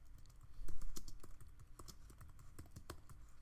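Rapid, uneven keystrokes on a computer keyboard as a message is typed into a class message center, close and clear, with a few heavier key presses and no talking.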